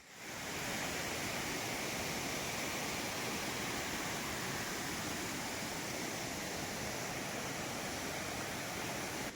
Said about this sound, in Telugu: ఇక్కడ ఏదో చిన్న వాటర్ ఫాల్స్ కదా